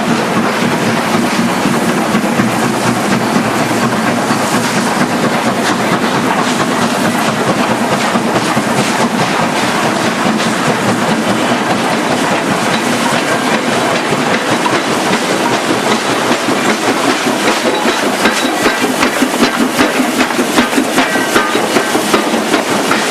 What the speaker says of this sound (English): this is the 6:20 a.m. departure from Nanpiao to Lingai